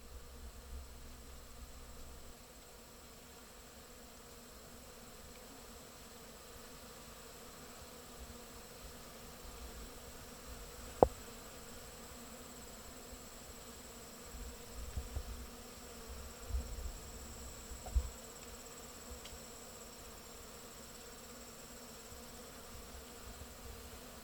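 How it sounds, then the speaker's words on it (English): A soft, continuous insect drone of buzzing bees, faint and steady, with a few quiet knocks and rustles partway through. "I'm just going to let you listen to the bee noise instead of me."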